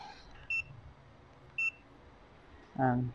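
Two short electronic beeps from a multimeter continuity buzzer sound a second apart while testing a lightning-damaged Devant 58 smart TV power supply, followed by a brief low voice at the end.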